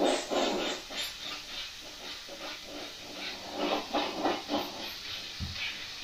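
Close airbrush hiss as a second coat of yellow oxide paint goes on over a base coat, a steady airy spray pulsing in short bursts with brief pauses.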